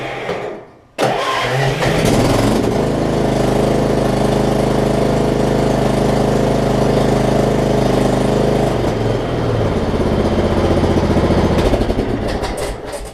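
A repaired push lawn mower's small engine catches after a short silence and runs loud and steady close by, holding a constant drone for the rest of the stretch before a slight change near the end.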